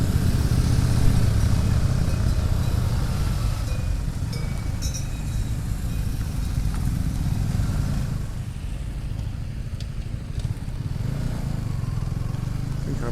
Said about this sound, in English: as you can hear, bikes around.